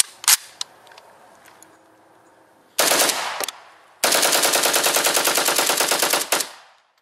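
An AK-variant rifle fitted with a bump stock fires in rapid bursts: a couple of isolated shots, then a short burst, then a long sustained string of fast, loud cracks that ends with a fading echo.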